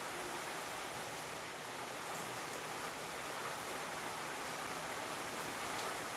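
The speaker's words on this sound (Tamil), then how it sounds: "சரியான மழை." Heavy rain pours steadily with a dense, even hiss that stays constant throughout, no voices over it.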